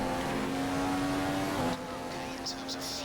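Race car engine in a racing video game, a sustained droning engine tone that shifts pitch partway through, moderately loud.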